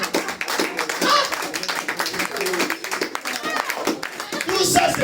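A church congregation claps in praise for Jesus, a brisk, uneven patter of many hands, with voices calling out over the applause.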